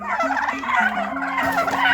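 Domestic turkeys gobble in a flock, calls overlapping continuously and fairly loud and close, with no talk.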